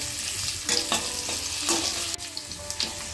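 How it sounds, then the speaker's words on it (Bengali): Potatoes hiss and sizzle in a hot pan, broken by the scrape and clatter of stirring every half second or so. "আলুগুলো এর মধ্যে দিয়ে দিয়েছি। এখন আমি ভাজা ভাজা করে নিচ্ছি।"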